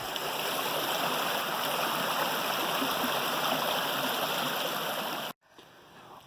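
Creek water rushes over rocks in a steady, broadband wash that holds evenly for over five seconds, then cuts off abruptly into near silence.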